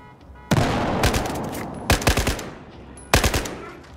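Gunfire in the video game Battlefield 4: three loud, close automatic bursts of rapid shots, each fading into a short echoing tail, with quieter gaps between them.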